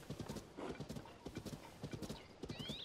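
A horse in Zelda: Tears of the Kingdom gallops in a steady rhythmic hoofbeat, close and continuous, ending in a high, wavering neigh over the last half second.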